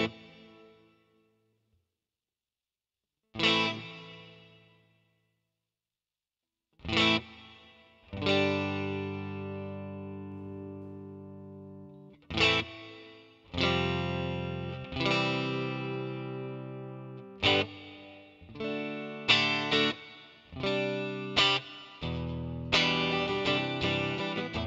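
Clean electric guitar through a Fractal FM3 amp model with medium hall reverb, played as separate struck chords and notes with long ringing decays and pauses between phrases, heard alone and up close.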